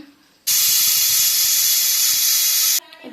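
Chicken and ginger garlic paste hit hot oil with an abrupt, loud, sustained sizzling hiss lasting a little over two seconds. Quieter kitchen sounds are heard before and after.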